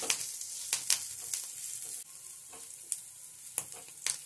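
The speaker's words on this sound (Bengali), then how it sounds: "এরপর এর মধ্যে দিয়ে দিচ্ছি 1 মুঠো কারি পাতা। কারি পাতাটাকেও নেড়ে চেড়ে ভেজে নিতে হবে।" A handful of curry leaves fry with chopped onion and green chilli in a pan while being stirred. A soft, steady sizzle sits under repeated sharp scraping and clinking strokes, spaced irregularly throughout.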